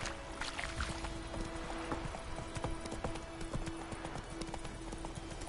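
Horse hooves clip-clop in a steady galloping rhythm in The Witcher 3, fairly close and moderately loud, with game ambience and a faint tonal hum underneath.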